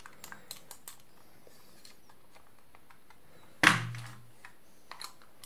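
A Logitech B170 wireless mouse makes faint small clicks and handling taps, then one sharp loud click from its switch that rings briefly before a few more light ticks.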